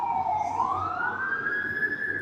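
Fire trucks and police cars passing through a city near New York City, a loud wailing siren sweeping upward and holding high, close and continuous with no talk.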